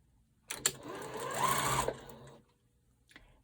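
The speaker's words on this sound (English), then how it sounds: "now I sew my 3 pieces together." A sewing machine stitches quilt pieces together in one short run of about two seconds, a whirring hum that rises in pitch and then stops, close and fairly quiet.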